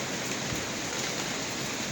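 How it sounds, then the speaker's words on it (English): Heavy rain falls steadily in windy weather, a continuous dense hiss that stays loud and even throughout with no voices. "it's been raining for like a long time"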